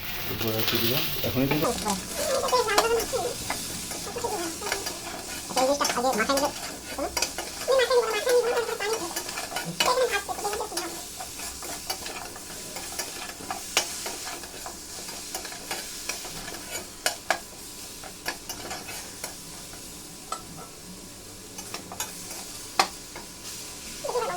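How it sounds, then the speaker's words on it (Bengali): Eggplant pieces with salt and turmeric frying in hot oil, a loud, continuous sizzle close by with rhythmic stirring scrapes and clatter, a voice speaking over the first part. "তেলটা গরম হলে তাতে আমি বেগুনগুলো দিয়ে দিলাম"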